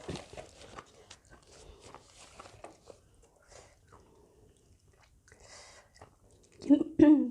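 Close, soft chewing of raw vegetables eaten with Thai rice noodles in a fish-curry broth with fish balls, with faint whispery mouth noises throughout and a louder burst of bites near the end.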